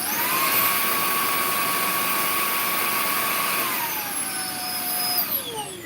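A Shark Ion cordless vacuum cleaner runs steadily at close range, a continuous high whine with a sustained tone that drops in pitch near the end as the motor changes speed.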